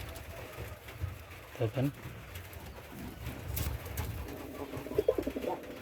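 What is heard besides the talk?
pigeons cooing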